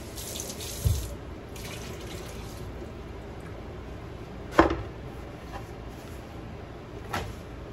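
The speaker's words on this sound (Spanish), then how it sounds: "Ahora las vamos a enjuagar bien pronto." Potatoes rinsed under a running kitchen tap, a steady splashing water stream over a sink with a few sharp clunks of a cupboard or pan at intervals.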